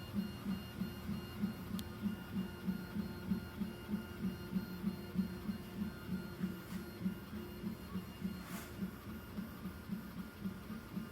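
A Rat Rig V-Core 3.1 3D printer with a 0.4 mm CHT Volcano nozzle lays down ABS+ layers, its steady motor hum pulsing in a rapid, even rhythm with a faint mains-like drone and a couple of light clicks.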